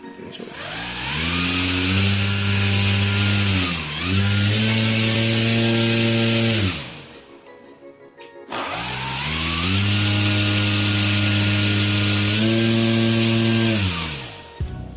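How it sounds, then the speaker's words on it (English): Homemade RC plane electric motor whining at high throttle, a loud steady tonal buzz that dips briefly, cuts out for about a second, then spins back up to full speed and winds down at the end. "As I increases the throttle, the speeds increase also. It's very high speed actually."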